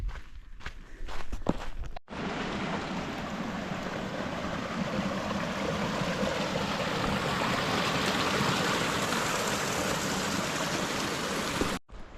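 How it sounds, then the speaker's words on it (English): A river crossing on the Pacific Crest Trail in the Sierra, with Mount Whitney ahead, rushes steadily and loudly for about ten seconds, a close, even roar with no talking. "This will be our first river crossing of the Sierra."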